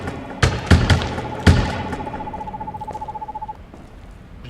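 A bird calls in the video game Perception, amid several loud thumps and knocks followed by a rapid, evenly spaced run of pulses that fades out.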